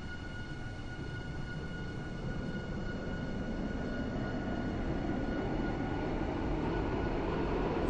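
A Class 331/1 passenger train in a railway simulation game, made up of four coaches, rolls along with a steady low rumble and faint high electric whine that builds slightly as it goes, with no voices.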